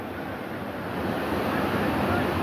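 Water rushes at Dantiwada dam in a dense, steady, broadband roar that swells slightly louder toward the end, with no voices over it.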